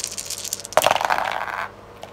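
Several dice tumble onto a tabletop during a Warhammer 40k tabletop game, a quick rattling clatter that starts sharply and settles over about a second, with a small final click after, close and fairly loud.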